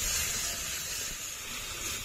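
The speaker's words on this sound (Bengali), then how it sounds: "ভালো করে কষে নেব।" Spices and masala for a rui fish curry, with salt and turmeric, sizzling as they are stir-fried in oil, giving a steady close hiss that stays even and unbroken throughout.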